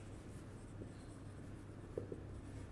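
Quiet scratching of a pen writing a definition by hand on paper, faint and continuous under a low background hum, with a couple of slightly firmer strokes near the end.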